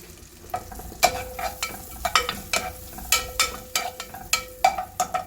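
Ginger, garlic and green chillies fry in a pan for a black rice vegetable pulao, a close, steady sizzle punctuated by repeated sharp scrapes and clacks of stirring at an irregular rhythm.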